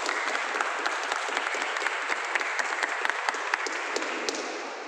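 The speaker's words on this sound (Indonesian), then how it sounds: "terima kasih, tepuk tangan kelompok" A church youth gathering applauds a group after its presentation, with dense, steady clapping that is close and fairly loud throughout and no talking over it.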